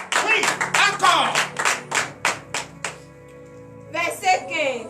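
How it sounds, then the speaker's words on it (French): A congregation at a morning prayer service in Benin claps in acclamation, with loud rhythmic bursts of hand claps mixed with voices before fading toward the end. "Pourquoi ne pas donner l'acclamation au Seigneur Jésus?"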